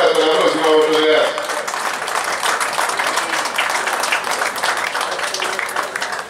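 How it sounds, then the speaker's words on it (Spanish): Crowd applause for a musical accompanist at a rodeo champions series, following a short stretch of a voice, then continuous clapping from a gathered audience. "le tengo un fuerte aplauso a quien nos acompañó en el marco musical"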